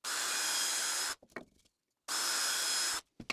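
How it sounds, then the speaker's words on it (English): A power drill opens up small holes by half a millimetre on a 1920 Redrup radial engine replica part, running in two steady, loud whirring bursts of about a second each, with brief clicks and a short silence between. "first thing I'm going to do is open up these holes a bit"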